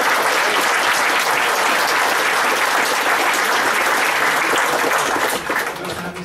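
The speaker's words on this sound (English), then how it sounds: "So a big round of applause, please, for Russ." A dense, loud round of applause from a convention audience for the fantasy illustrator Russ, sustained and even before tapering slightly at the end.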